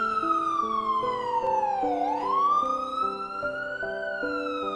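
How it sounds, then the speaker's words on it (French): Wailing ambulance siren, loud and close, sweeping down and back up in pitch for nearly five seconds without voices. "L'ambulance est arrivée."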